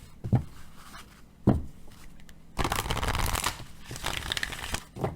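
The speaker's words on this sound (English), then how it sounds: "let me go ahead and do a few more shuffles" Playing cards shuffled close up: two quick riffle bursts, then a longer stretch of rapid flapping and a final short riffle, with no voices.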